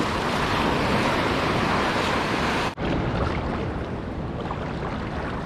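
Sea waves and a strong current at a shore in La Union, a loud close roar of surf mixed with wind buffeting, continuous throughout with a brief cut partway through.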